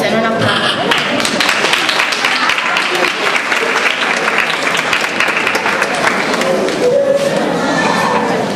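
An audience at a middle-school Christmas concert claps steadily, a dense sustained wash of applause with some crowd murmur and a voice briefly speaking over it.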